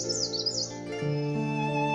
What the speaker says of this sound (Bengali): যেখানে ভোর না হতেই শুরু হয়ে যায় পাখিদের ডাকাডাকি